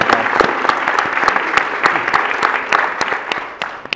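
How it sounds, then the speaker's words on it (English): Audience applause at the taping of a podcast's 100th episode: steady, dense clapping from a room of people with sharp individual claps standing out, fading slightly toward the end. "And yeah, we can give them some applause."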